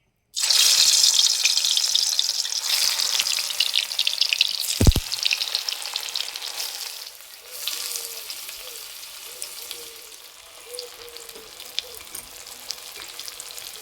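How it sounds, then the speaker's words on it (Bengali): Banana flower and egg fritters hit hot oil and sizzle loudly and steadily at close range. A brief utensil knock comes partway through, and the frying gradually softens to a quieter bubbling. "এগুলো ভাজার জন্য তেল খুব ভালো করে গরম করে নিয়েছি, এবার ভেজে নেব।"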